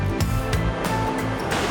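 A rough mountain river running high rushes through a rocky canyon in the Kungei Alatau, a loud, close, continuous roar of churning water with surging pulses.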